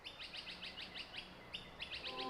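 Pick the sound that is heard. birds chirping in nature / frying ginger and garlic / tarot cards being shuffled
birds chirping in nature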